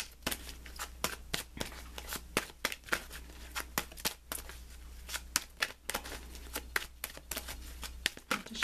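Secret Language of Animals oracle cards are shuffled by hand in a quick, steady run of crisp riffling snaps and soft flutters, close and fairly loud, with no talk.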